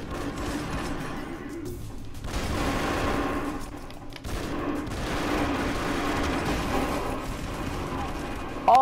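Gunfire in the Broforce video game rattles in dense, rapid bursts, loud and busy, with two long stretches of heavy shooting and a brief pause between them.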